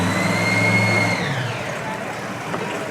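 Super Stock class pulling tractor named Satisfaction at the 2014 Schaghticoke tractor pull, its engine roaring at high revs with a whining turbo that slides down in pitch as it winds off, blending into crowd and background noise.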